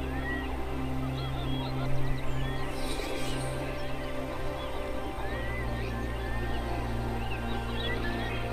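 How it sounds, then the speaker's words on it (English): A dense chorus of pink-footed geese honking from a distance at a marsh roost, many calls overlapping over steady wind-like background noise. "These are pink-footed geese which have roosted out on the marsh."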